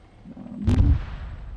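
A single explosion blast in a multiplayer shooter game, a sharp loud boom with a rumbling low tail that fades over about half a second, heard alone.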